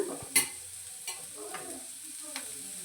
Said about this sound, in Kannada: ಈಗ ಈರುಳ್ಳಿ ಕಲರ್ ಚೇಂಜ್ ಆಗೋವರೆಗೂ ಬಾಡಿಸ್ಕೊಳ್ಳೋಣ.